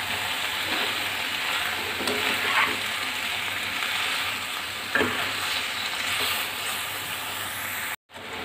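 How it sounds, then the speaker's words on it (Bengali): Vegetables and eggplant frying in a pan, with a steady hiss of sizzling and occasional stirring knocks, fairly loud and continuous, briefly dropping out near the end. "আমি সবজিগুলো নেড়ে চেড়ে কষিয়ে নিয়েছি। এখন এর মধ্যে বেগুনগুলো দিয়ে দিলাম।"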